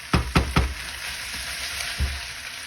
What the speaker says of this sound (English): You can hear the sizzling, that's good. That means the noodles are getting a little charred.